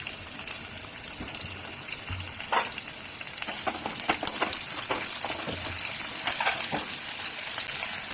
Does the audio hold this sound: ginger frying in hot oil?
yes